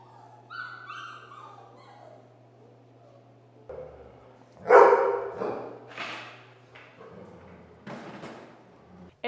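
Puppies in a garage nursery bark and whimper in short, uneven bursts, with a louder cluster of yelps near the middle and a low steady hum underneath.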